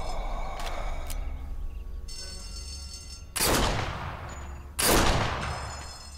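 Gunfire in the Sniper Elite VR game on PC, with a few light clicks early on, then two loud, close gunshots, each followed by a long booming echo that fades slowly.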